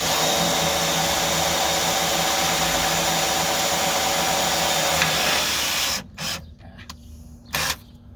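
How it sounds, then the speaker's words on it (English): A power drill with a small bit drills a pilot hole in a 1970 Volkswagen Beetle body, a steady loud whine for about six seconds, then cuts off, followed by brief clicks and a short motor burst. "just a small drill bit for the pilot hole. Get my speed up here."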